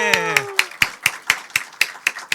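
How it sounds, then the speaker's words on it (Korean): About ten sharp, evenly spaced hand claps from a group at a campaign event for a Seoul preliminary candidate, starting as a voice trails off and continuing in a brisk, steady rhythm. "박수!"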